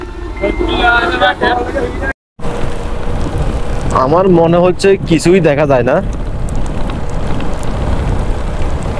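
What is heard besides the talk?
heavy rain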